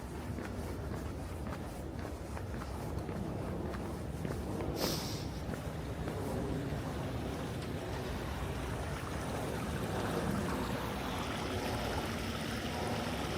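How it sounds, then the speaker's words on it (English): A city-park creek flows with a steady, soft rushing and burbling close by, a brief brighter splash partway through, with faint footsteps and distant city hum beneath. "we're close to our creek"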